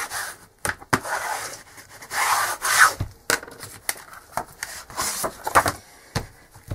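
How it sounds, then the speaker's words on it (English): Paper being burnished by hand on a cardboard Distress Ink storage tower, giving dry rubbing and scraping strokes in irregular bursts with brief sharp taps, close and fairly quiet. "Turn it over, burnish."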